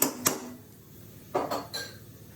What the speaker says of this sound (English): We just want a couple of spoons of the